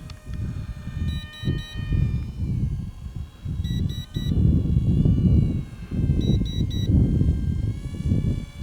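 An XK A180 F22 Raptor 320mm EPP RC airplane flies past and comes in to land, its small electric motor whining under gusty wind noise, with repeated short triple beeps from a transmitter or alarm.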